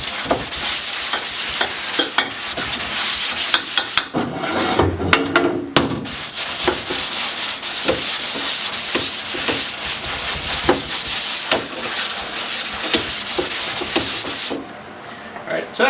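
Steady scrubbing and rubbing on a screen-printing screen coated with emulsion remover, a continuous close, busy friction texture that runs almost the whole time before easing near the end.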